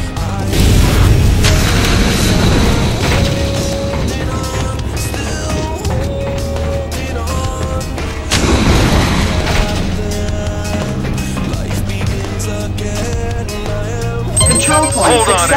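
Airstrike explosions in the video game Section 8 Prejudice: heavy, dense booming blasts that run continuously, mixed with game music and a short announcer voice near the end.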